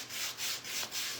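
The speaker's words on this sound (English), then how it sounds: "we're going to take our sander, okay? This is just a little hand sander thing." A small hand sander works over wood in four rhythmic back-and-forth rubbing strokes, close and moderately loud, with no voices.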